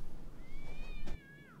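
A cat meows once, a single drawn-out rising then falling cry, close and clear over faint background noise in a comedy sketch, with no talking.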